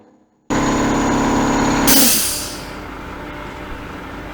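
A loud CNC machine cuts out an MDF mimic panel, its steady mechanical roar starting abruptly, surging with a bright hiss, then settling into a lower continuous drone in a workshop.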